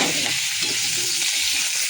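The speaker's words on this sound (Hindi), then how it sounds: "आलू भी भाजला।" Potatoes fry in hot oil with a steady, loud, close sizzle that holds evenly throughout.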